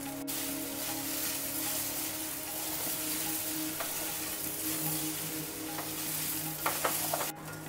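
Okra (bhindi) fries in oil in a kadhai over a medium flame, a steady soft sizzle with occasional stirring scrapes and clinks near the end.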